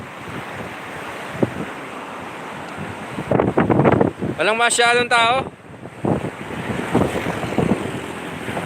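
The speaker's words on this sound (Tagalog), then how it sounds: "Medyo malakas ang alon dito sa may seawall ng Gumaca" Strong waves crash and surge against a seawall in Gumaca, Quezon, amid steady wind noise, while someone speaks briefly in the middle.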